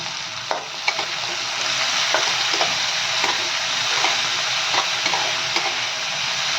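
An onion mixture with green chilli, coriander and tomato sizzles steadily in a pan, a constant bright frying hiss with faint periodic taps and scrapes of stirring, no voices.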